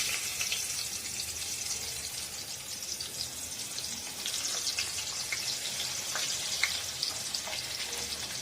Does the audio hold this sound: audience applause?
no